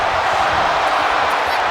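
A WWE 2K25 arena crowd in a women's division wrestling match cheers in a steady, loud roar that fills the moment without a break.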